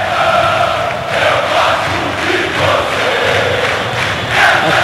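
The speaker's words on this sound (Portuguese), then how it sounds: "E a torcida do Flamengo está tentando encontrar um coro qualquer para incentivar o time nesse momento." Flamengo football supporters in a stadium produce a loud, swelling crowd roar with ragged chanting surges as they try to get a chant going.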